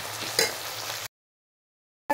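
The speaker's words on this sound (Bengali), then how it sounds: "ততক্ষণ দেখি পেঁয়াজটা ভাজা হয়ে যাক।" Onions frying in a pan for a chicken dish give a steady close sizzle for about a second, then it cuts to silence with a brief blip at the end.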